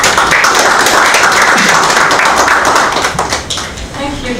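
An audience at a population report launch event applauds loudly, dense rapid clapping that thins out toward the end as a voice begins.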